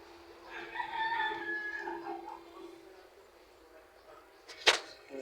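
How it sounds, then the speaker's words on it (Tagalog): A native chicken crows, a drawn-out, wavering cock-a-doodle-doo that is moderately close and clear. A short sharp knock follows a few seconds later. "Native na manok ba, ma?"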